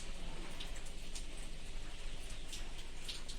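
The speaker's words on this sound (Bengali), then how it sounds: "চলো দেখো বন্ধুরা, মুসুলধারা বৃষ্টি।" Steady, dense rain noise fills the whole stretch, a broad continuous wash with scattered brighter drop hits, no voices.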